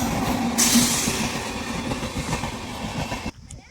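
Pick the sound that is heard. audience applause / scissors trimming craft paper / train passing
train passing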